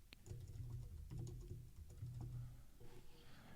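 Typing on a computer keyboard while entering sample paragraphs, with quick irregular clicks and taps close by over a low background hum.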